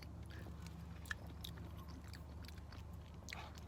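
Close, faint chewing and crunching of a breakfast burrito filled with green chili, sausage and egg in a tortilla, soft bites repeating over a low background hum.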